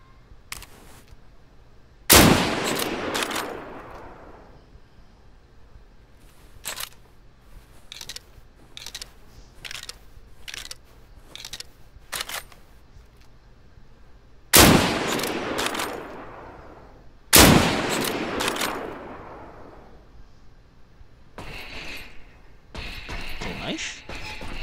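Automatic gunfire in the video game Deadside, several sharp loud bursts cracking out at intervals with quieter clicks and shots between, close and punchy, while people talk.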